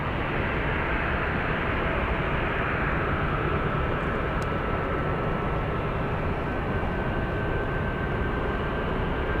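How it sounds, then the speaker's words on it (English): A United Airlines Boeing 757-200 arriving at San Francisco International Airport from Newark, a steady broad engine roar that holds at a constant level the whole time, with a faint whine running through it and no voices. "Next one is a 757-200 flying in from Newark."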